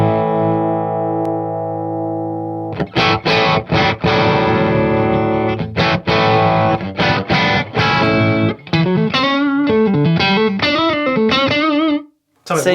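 Electric guitar played through a distortion drive pedal and amplifier, a sustained chord ringing out then loud, saturated strummed chords and bent lead notes with a gritty, compressed tone, near and dominant throughout.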